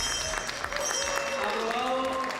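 Applause in a parliament chamber after a bill is approved, a short burst of scattered clapping from a modest group, fairly close, with a voice speaking over it.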